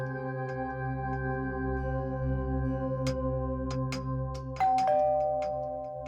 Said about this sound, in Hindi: घंटी बजा।